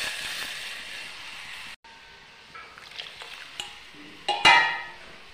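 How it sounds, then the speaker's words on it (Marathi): Cooked dal poured into a hot tempering of oil with turmeric and salt, a steady broadband sizzle that cuts out briefly, then resumes with scraping stirs and a louder burst of frying near the end. "वरण टाकायचं फोडणीमध्ये"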